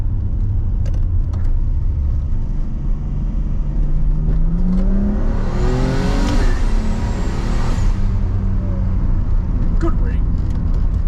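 Turbocharged RB30-engined Nissan R31 Skyline driven hard from inside the cabin, a loud engine drone rising in pitch through a rev climb then dropping, with road rumble and a voice talking over it.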